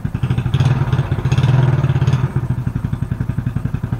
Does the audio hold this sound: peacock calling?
no